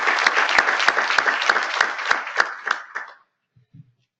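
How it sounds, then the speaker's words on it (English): A conference plenary audience gives a round of applause, a dense burst of clapping with some distinct strong claps, dying out after about three seconds into near silence with a faint murmur. "So thank everybody for a big round of applause for the whole community for a great job of data quality."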